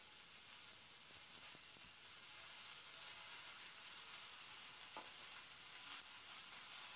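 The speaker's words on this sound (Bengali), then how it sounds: "এরপর আমি এখানে কেটে রাখা পালং শাকটা দিয়ে দিচ্ছি" Chopped spinach fries in a pan with a soft, steady sizzle and hiss throughout, faint and uninterrupted, with a couple of light stirring clinks and no talking.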